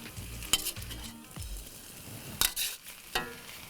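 Noodles being stir-fried in a hot wok, with a soft steady sizzle broken by sharp metallic scrapes and clanks of the spatula at irregular intervals, close up.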